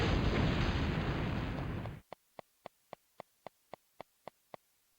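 Bombs going off in a PS1 video game demo: two seconds of loud, roaring explosion rumble cut off abruptly, followed by a steady series of ten sharp, evenly spaced clicks or pops.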